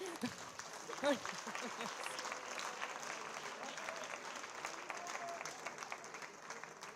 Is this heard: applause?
yes